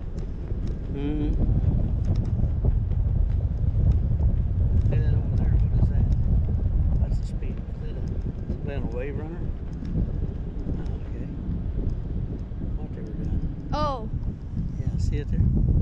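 Wind buffeting the microphone aboard a boat heading into the wind, a steady loud low roar throughout with faint voices and small knocks beneath it.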